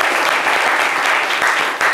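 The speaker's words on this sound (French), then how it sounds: "Applaudissez bien fort, Ange, s'il vous plaît." Radio studio audience clapping loudly for a caller, a short, dense and steady burst of close applause.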